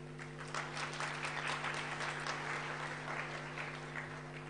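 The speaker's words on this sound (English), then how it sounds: "And a round of applause for our dancers, Meyumana." A live event audience gives a round of applause for a dance troupe; thick, continuous clapping holds steady for several seconds over a persistent low hum in the room.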